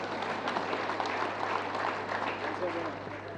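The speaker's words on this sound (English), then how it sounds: "Please, a warm round of applause." Warm applause from a seated audience at the Ghana Club 100 Awards gala for a government minister: steady, dense clapping that fills the whole moment, with a faint voice briefly under it near the end.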